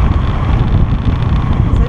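Wind buffets the microphone outdoors, a steady loud low rumble that fills the whole clip with broadband roar and no clear pauses.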